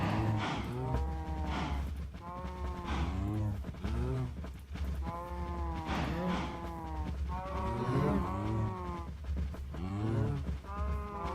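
Cows in the video game Minecraft moo over and over, with overlapping low, drawn-out calls following one another steadily and loud throughout.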